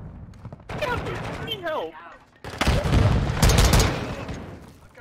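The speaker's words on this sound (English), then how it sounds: "Now they're using shotguns, man." Shotgun fire in a Call of Duty-style search-and-destroy video game, with loud booming blasts and clattering gunfire dominating the second half after a short stretch of talk and radio-style voices.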